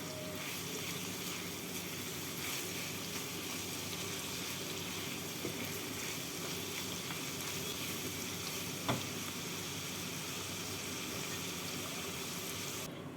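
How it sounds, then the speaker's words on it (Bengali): Onions sizzling steadily in a pan after a pinch of salt is added, a continuous fry with faint stirring and one brief knock near the middle, heard alone without talk. "পেঁয়াজের মধ্যে দিয়ে দিচ্ছি অল্প নুন নুন দিলে পেঁয়াজটা তাড়াতাড়ি নরম হয়ে পেঁয়াজটা ভাজা হয়ে যাবে"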